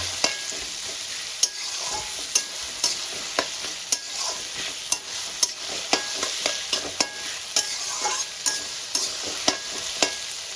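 Onions fry in a pan with salt under a steady sizzle, close and bright, with frequent sharp spatula knocks and scrapes against the pan as they are stirred.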